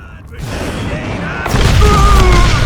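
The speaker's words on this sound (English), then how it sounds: "All it takes is one tiny spark, and boom." Dynamite blows up in Call of Juarez Gunslinger: a sudden heavy boom about midway that swells into a sustained, loud rumbling roar, with tonal game sounds running underneath.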